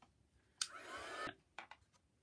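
A hair-dryer-style drying tool blows air over a watercolour card, a steady whooshing hiss lasting under a second, framed by light clicks and taps before and after.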